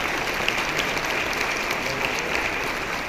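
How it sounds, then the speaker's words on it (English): A live audience at a YouTube product announcement event breaks into applause, a thick, even patter of many hands clapping that stays constant throughout, heard from a moderate distance with no voices over it. "Big round of applause."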